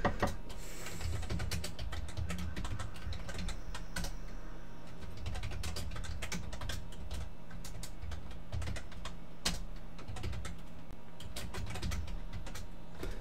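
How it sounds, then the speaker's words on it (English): Rapid, irregular clicking of a computer keyboard as code is typed in a C++ setup session, close and continuous with no talk. "go ahead and type in what I type here"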